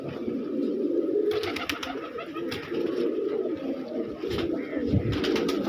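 A pigeon or dove flies past outdoors, with soft wingbeat flutters and coos over steady background noise across several seconds.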